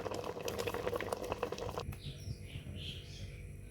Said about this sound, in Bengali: শাকটা সেদ্ধ হওয়া পর্যন্ত আমি অপেক্ষা করছি।